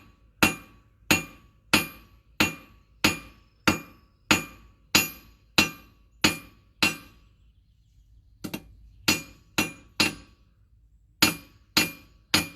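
Hammer blows ring on hot metal over a cool anvil to straighten it, about twenty sharp clinking strikes in an even rhythm with a short pause midway, close and clear, no voices.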